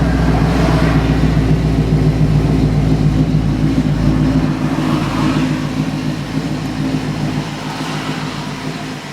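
A 1965 Mustang Cobra resto-mod's engine runs steadily at a low, droning idle, gradually fading a little toward the end, with no talking.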